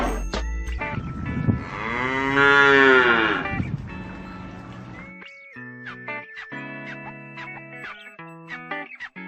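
A cow lets out a long, loud moo, followed by electronic musical tones and effects playing on their own.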